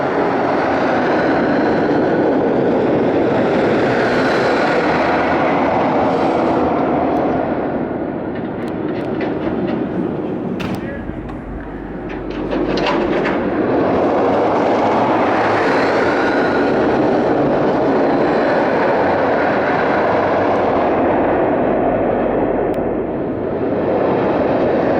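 An empty Mr. Freeze roller coaster train at Six Flags St. Louis runs a test cycle, a loud, sustained rushing roar of wheels on track that dips briefly near the middle with clattering bursts, then surges again, no voices over it.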